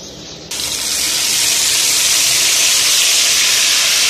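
A mixer grinder jug grinds onion, tomato and green chilli masala. A sudden loud rushing roar starts and holds steady and close, with no speech.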